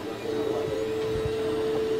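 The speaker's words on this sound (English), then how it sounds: "then send the blueprints to the 3D printer" A 3D printer in a high school engineering classroom runs with a steady motor whine and soft mechanical stepping, moderately close and continuous.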